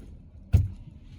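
A 2011–2017 Dodge Charger's door locks actuate once after its key fob is newly programmed, giving a single short, sharp clunk close by in an otherwise quiet setting.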